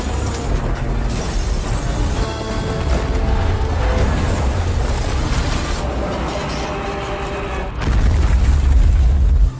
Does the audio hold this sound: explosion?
yes